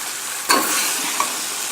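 A broccoli, asparagus and tomato mixture is stirred in a hot pot, with a sudden scrape and sizzle followed by steady hissing and a small clink.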